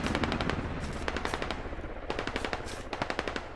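Machine gun fire in the Squad video game, rapid sustained bursts of automatic shots in several long strings with brief pauses between them, loud and close.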